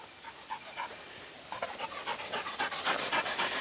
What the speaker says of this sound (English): That's a tuckered pup.